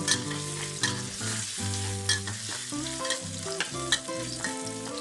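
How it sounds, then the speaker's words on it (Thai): Garlic fries in hot oil in a pan while cooking tofu, a loud steady sizzle close up with repeated stirring scrapes throughout and no voices. "ใส่กระเทียมลงไปเลยค่ะ"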